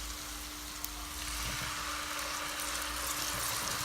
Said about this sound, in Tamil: பேஸ்ட் ஆட் பண்ணிவிட்டு இதை நல்லா வதக்கி விடணும்